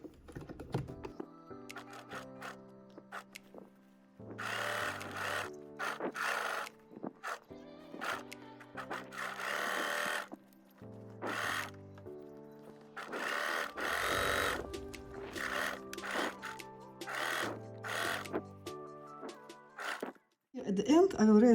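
A sewing machine stitches a zipper into a jacket in repeated runs, each a loud buzzing burst of rapid needle strokes separated by brief pauses and quiet handling noises, with speech coming in near the end.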